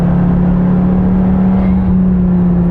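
The engine of a 2015 Dodge Viper T/A 2.0 roars loudly and close, holding a steady, deep droning note over a heavy rumble for a few seconds without clear rises in pitch.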